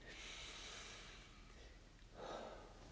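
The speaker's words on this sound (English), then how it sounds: "let's go ahead and take a deep breath" A person takes a deep breath close to the microphone: a quiet, airy inhale followed by a short, stronger breathy rush near the end.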